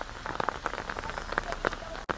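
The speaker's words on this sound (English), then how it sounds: "It's raining a little bit," Light rain falls steadily outdoors at Shanhaiguan by the Great Wall in China, a soft, even patter with a few closer drops ticking nearby and a faint voice in the background.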